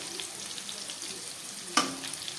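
Pointed gourd and potato sizzle steadily in hot oil as salt and turmeric go in, a close, even frying hiss with one brief sharp clink of a spoon partway through.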